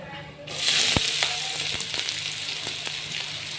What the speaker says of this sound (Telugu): కొద్దిగా ఏగుతున్నాయి. వేగిన తర్వాత ఆనియన్స్ వేసుకోవాలి.